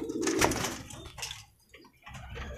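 Lakka fancy pigeons at a breeding farm in Uluberia coo in soft, overlapping bursts, with a louder cluster early on and quieter calls trailing off after a short lull.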